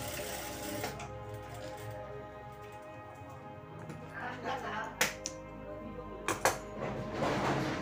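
A domestic sewing machine stitches elastic onto the hem of a pair of pajamas, a steady close mechanical whirr with brief louder bursts as the stitching speeds up and stops.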